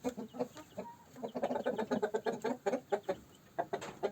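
A black Australorp rooster clucks softly in a steady run of short, rhythmic clucks with quiet barnyard background.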